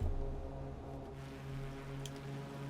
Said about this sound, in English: Very buzzy engine sound, actually.